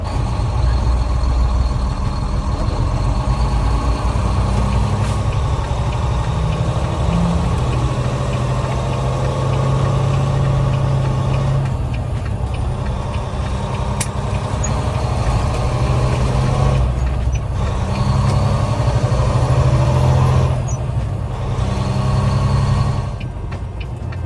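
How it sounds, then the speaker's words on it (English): A semi-truck engine rumbles and idles steadily from inside the cab while driving, with low diesel drone, a few brief hissing bursts and clicks, and no talk. "This is a very tight turn for a semi-truck"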